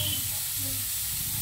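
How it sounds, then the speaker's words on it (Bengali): Cauliflower frying and being stirred in a home kitchen pan, a steady broadband sizzle and hiss running continuously and fairly loud, with a low hum underneath. "আমার কপি ভাজাটা, আমরা দেখুন নাড়িয়ে নেবো"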